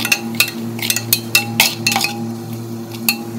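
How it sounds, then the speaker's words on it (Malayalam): A spoon clinks and scrapes against a pan while chicken gravy masala is stirred, giving irregular sharp metallic taps over a steady low hum, close and fairly loud. "ചേർത്ത് വെച്ച മസാലക്കൂട്ടിൻ്റെ പച്ചമണം മാറുന്ന വരെ നമുക്കിത് നന്നായിട്ട് ഇളക്കിയെടുക്കാം"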